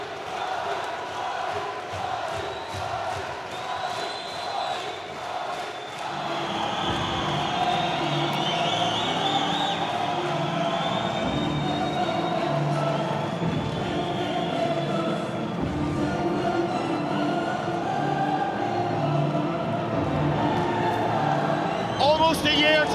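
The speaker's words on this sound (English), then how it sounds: "steps out onto the runway to deafening applause and roars from his faithful fans" Dublin crowd at a Cage Contender MMA event roaring and applauding as the featherweight fighter walks out, the din swelling after a few seconds into a loud, sustained wall of cheers with commentators talking over it.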